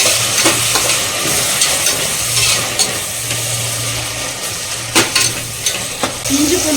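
Tomatoes and green chilies sauté in hot oil for a mutton kudal (intestine) biryani, giving a steady close sizzle with occasional stirring scrapes throughout.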